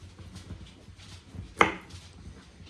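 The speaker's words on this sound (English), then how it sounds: "And then we'll just cut them" A single sharp knife chop cuts through fruit, likely pineapple, on a board, one distinct crisp hit amid quiet kitchen background.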